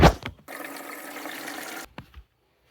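Water pours steadily into the tank of a Tineco floor cleaner for about a second and a half, a continuous rushing fill bracketed by brief handling knocks, close and moderately loud.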